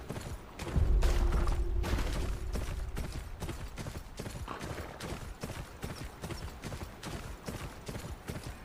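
Galloping hooves pound in a fast, steady rhythm, close and clear, with a brief low creak near the start.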